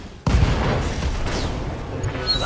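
Mech weapons fire at enemy mechs in the video game BattleTech, aiming a precision strike at an enemy Valiant's rear: a loud volley erupts suddenly and rumbles on as a dense, sustained barrage of booming gunfire and blasts.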